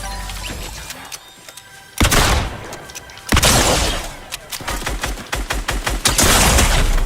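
Loud gunfire bursts in Fortnite Chapter 4, with heavy blasts at about the two- and three-second marks followed by rapid repeated shots, close and intense with no talk.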